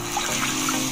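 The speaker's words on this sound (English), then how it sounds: "we're going in with 2 cups of water" Two cups of water pour into a pot for cooking egg noodles, a brief steady close splashing trickle.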